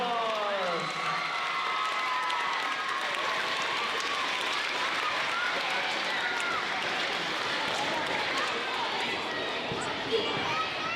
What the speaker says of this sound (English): Let's give our sixth graders a big round of applause.